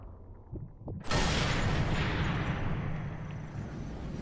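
A loud gunshot or blast in the Sniper Elite III video game hits after a second of near quiet, then rolls on as a dense, sustained rumbling wash that slowly fades.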